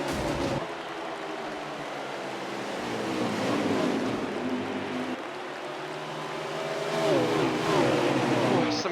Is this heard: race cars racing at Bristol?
yes